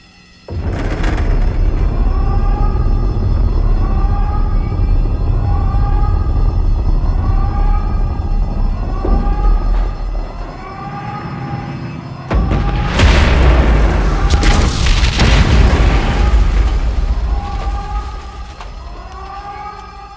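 Rocket engine ignition and explosion in the Medal of Honor video game: a sharp blast opens a sustained roaring engine with a wailing siren, then a second, heavier boom erupts into a loud rumbling roar.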